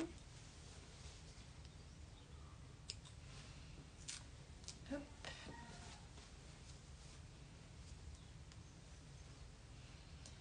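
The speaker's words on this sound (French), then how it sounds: "Donc je vais couper les fils aussi" Several faint, quiet snips of scissors cutting sewing threads on fabric straps in a sewing workshop, scattered across a low steady background hum.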